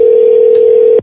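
A single steady telephone tone, like a dial or keypad tone, is heard while a number is dialed for a callback. It holds loud and unbroken for about a second, then cuts off abruptly.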